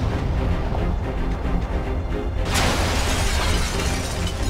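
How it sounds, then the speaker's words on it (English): A crystal shatters in the video game Final Fantasy XIII-2, a sudden bright crash rising out of a dense, loud wash of game sound and music, with no talking. "And it shatters the crystalliness of Valhalla."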